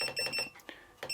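A flow meter measuring water gives several quick electronic beeps in fast succession, then a pause and a final beep, faint and close.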